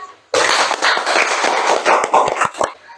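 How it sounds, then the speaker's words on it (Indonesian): A classroom bursts into applause after a class presentation, a sudden dense wash of many clapping hands that holds steady, then thins into a few scattered claps and cuts off. "Ya, tepuk tangan."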